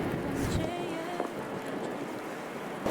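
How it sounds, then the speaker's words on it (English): Wind roaring during a winter blizzard, a dense, constant rushing blast close to the microphone, loud and unbroken throughout. "Ah, wind."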